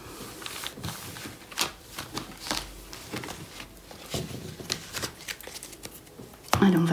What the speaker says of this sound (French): on va placer encore 5 cartes ici